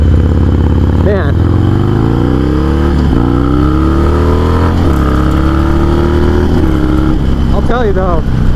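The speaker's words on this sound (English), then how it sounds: "I'll tell you though, this Harley rips, dude." A Harley-Davidson Sportster motorcycle engine revs hard up close, its loud throaty roar climbing and dropping through several gear pulls with no pause.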